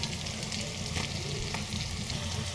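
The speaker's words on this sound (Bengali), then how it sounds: "ঝাল দেওয়ার পরে এটাকে কিছুক্ষণ ভেজে নেব" Shrimp with chili frying in a pan, a steady close sizzle with faint crackles and a couple of brief spatula scrapes, no voices.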